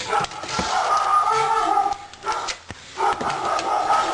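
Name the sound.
dogs barking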